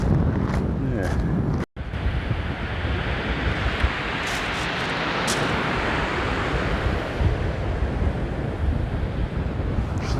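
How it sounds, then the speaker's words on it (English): Ocean waves break and surge continuously along the English coast, a loud, broad wash of surf with wind buffeting the microphone; a brief dropout interrupts it early, then the roar carries on steadily. "So I look at the waves for a bit."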